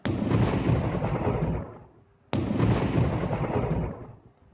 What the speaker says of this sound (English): you see I have applied that thunder effect